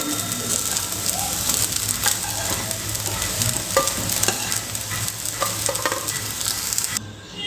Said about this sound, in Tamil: மீல் மேக்கர் நல்லா கிறிஸ்பியாக ஃப்ரை ஆகி வந்துருச்சுங்க.